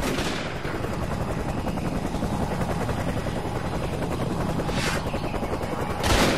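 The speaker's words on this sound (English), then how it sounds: "Choppers!" Helicopters approach in the Xbox 360 shooter Raven Squad, a loud continuous rotor chop throughout, mixed with gunfire bursts near the end.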